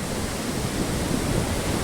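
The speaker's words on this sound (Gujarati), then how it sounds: "પવન વરસાદ સાથે જોરદાર વાવાઝોડું" A strong windstorm with wind and rain in Damnagar makes a dense, steady roar of rushing air and driving rain, loud and unbroken throughout.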